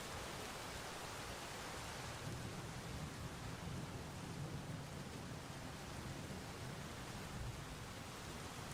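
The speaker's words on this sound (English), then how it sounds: "The sound of the rain continues to comfort me." Steady rain falls through the night as a dense, even hiss, with a soft low rumble beneath, constant and unbroken from start to finish, and no voices.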